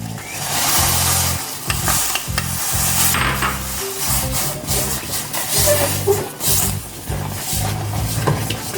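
Rice flour being stirred into oil in a pan, with a close, busy scraping and sizzling texture, uneven scuffs of a utensil against the pan over a constant hiss.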